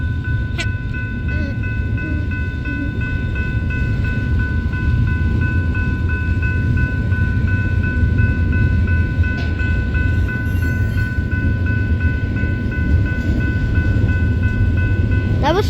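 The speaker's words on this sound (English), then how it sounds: "Is that another train?" A train rolls steadily past, a loud continuous rumble of wheels and cars with sustained high metallic squeal tones running throughout, close and unbroken for the whole stretch.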